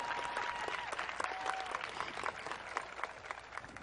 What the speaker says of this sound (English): You guys can clap.